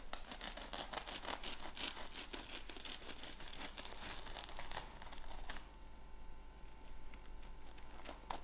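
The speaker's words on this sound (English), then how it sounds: "I will cut in the center of my loaf." A knife sawing into the center of a sandwich loaf, a quick series of close crunchy, scratchy strokes through the crust that stop partway, leaving a quieter faint background.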